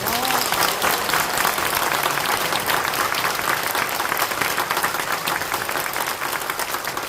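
Delegates at a church denomination's 75th general assembly give a strong, sustained round of applause to endorse newly elected officers, a dense wall of clapping that holds loud and even throughout.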